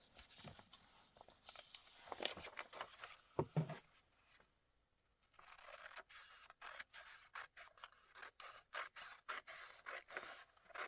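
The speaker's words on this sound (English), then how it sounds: "because I'm just going to cut one row out." Scissors cut a row out of a magazine page, giving close, quiet snips and paper scrapes in irregular bursts, with a short pause before more crisp snipping and rustling.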